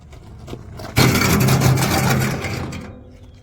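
An A.M. Leonard 6 cubic foot steel wheelbarrow is pushed and then braked hard, a sudden loud scraping skid that starts abruptly, holds for about a second and a half, then fades out.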